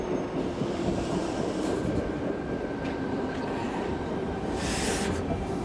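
A commuter train rumbles steadily at a station platform, with wheel noise and a few brief high squeals and hisses over a constant low drone. No one speaks.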